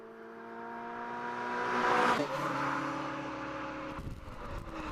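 A Lotus S1 Sport 190 coasting in neutral on the road, with a steady engine hum and broad road and wind rush that swells, then eases, ending with a faint rumble shift.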